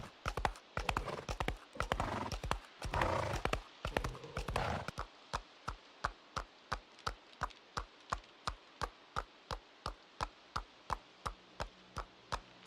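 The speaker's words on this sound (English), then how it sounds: "You enjoy the little clip clap sounds?" Horse hooves clip-clopping in the survival video game Project Zomboid, a steady, evenly spaced series of sharp clops that continue alone after a stretch of louder mixed game noise at the start.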